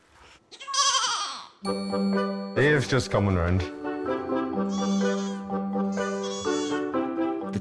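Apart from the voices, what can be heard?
goats bleating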